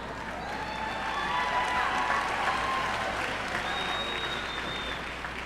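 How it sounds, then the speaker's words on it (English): Sustained audience applause fills a college commencement ceremony as graduates are recognized, a steady wash of clapping with a few whistles, loud and continuous throughout. "Do not hold your applause to the end."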